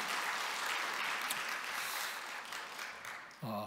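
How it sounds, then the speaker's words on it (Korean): A church congregation at a Sunday service claps in a dense, steady wash of applause for about three seconds, fairly distant and soft, before a voice cuts in at the end. "우리 박수 한번 치겠습니다"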